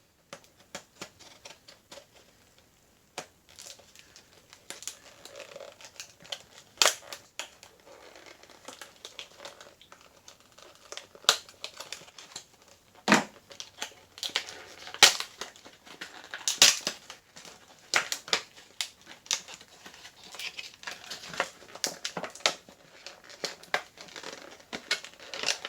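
Scissors or a blade cut through a thin paper card printed with a 1965 Ford Galaxie, giving a long run of small crisp snips and crinkles, close and fairly quiet, with no talking.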